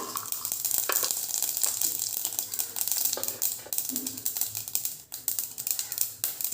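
Mustard seeds popping in hot oil in a kadai, a rapid irregular crackle of tiny bursts layered over a continuous sizzle, close and steady throughout.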